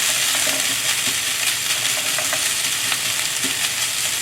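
Leftover rice and vegetables stir-fried in a hot pan for spicy curry fried rice: a constant close sizzle broken by scraping and tossing from the spatula.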